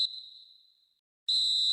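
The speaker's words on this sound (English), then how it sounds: "And the whistle goes for half-time." A referee's whistle in PES 2020 signals half-time with a shrill tone that fades over about a second, then a second loud steady blast starts after a brief silence.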